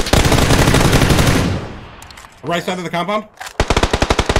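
Gunfire in the video game PUBG, with rapid bursts of automatic weapon fire at the start and end and a voice talking briefly in the middle gap.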